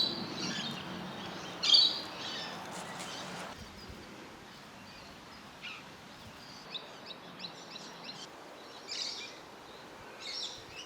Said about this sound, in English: There's been a lot of fairy wrens this morning, which has been so lovely to see.